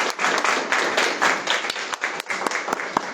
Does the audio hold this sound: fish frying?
no